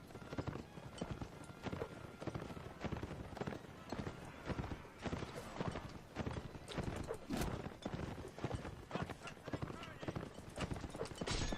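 Horse hooves clatter in a rapid, continuous clip-clop during a Napoleonic Wars multiplayer line battle game, dense and fairly loud with a busy battlefield texture and a voice speaking over it.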